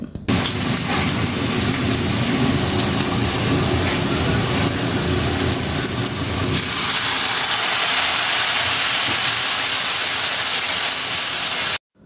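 Onions and green chilies fry in a pan, a loud, broad sizzling hiss that runs continuously, shifting to a brighter, airier spray partway through before cutting off abruptly at the end.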